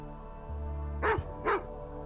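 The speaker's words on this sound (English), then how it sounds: "Oh, that dog. She's annoying." A dog gives two quick, sharp barks at mid distance against a steady low hum, with no other sounds around them.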